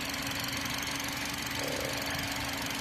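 A BMW engine runs steadily after a misfire repair, giving an even, close idle hum with no audible stumble across the short stretch.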